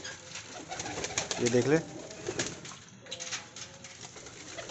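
Pigeons cooing near at hand as roti is put out for them on a tray, soft repeated coos mixed with some wing flutter, with someone talking briefly over them.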